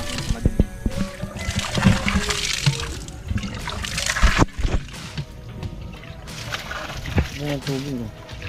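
Strong water gushes from a newly drilled pump, a loud rushing flow with splashing, while people talk and shout over it.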